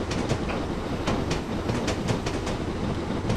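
Simulated 7F steam locomotive on the Midford to Radstock line in Train Simulator 2014, with a steady rolling rumble under rhythmic clickety-clack of wheels crossing rail joints, repeating clicks at a regular pace.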